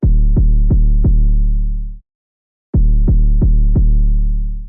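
Deep, booming 808 bass hits: four quick punches ringing out, a brief silence, then four more, loud and sustained.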